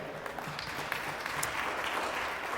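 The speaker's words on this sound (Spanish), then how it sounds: "dele fuerte el aplauso al Señor" Congregation applauding during a church sermon, a continuous, moderately loud spread of clapping from many people.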